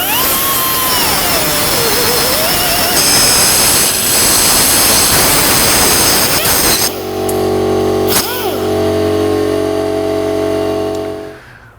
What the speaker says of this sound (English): My air compressor is really not meant to run a cutoff wheel, but we managed